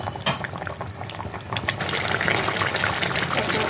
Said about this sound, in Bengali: একটু সেদ্ধ হবে, সেদ্ধ করাই আছে, একটু সেদ্ধ